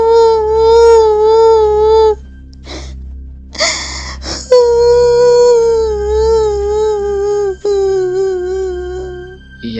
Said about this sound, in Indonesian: ia mendengar suara tangisan anak kecil